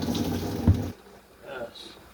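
A voice speaks briefly over running tap water, then the flow continues alone with light splashing in a sink.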